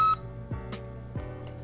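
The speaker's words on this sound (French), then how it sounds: "ça va faire un petit bip." A smartphone gimbal powers on with a short electronic beep at the start, followed by a couple of soft mechanical clicks and quiet whirring nearby.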